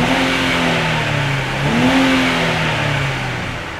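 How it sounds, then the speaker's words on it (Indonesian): Stock 3000 cc V6 car engine revs loudly and close, its pitch dipping and climbing again in a smooth, continuous run with no speech. "Untuk mesin standar suaranya sih enak ya, nggak begitu kencang dan berkarakter banget sih suara si 3000 cc mesin V6 di depan."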